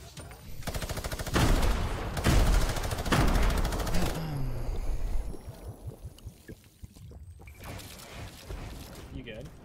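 A minigun fires in Fortnite: dense, rapid bursts of gunfire come in several long loud volleys, then break into scattered shots and game noise as players talk over the action.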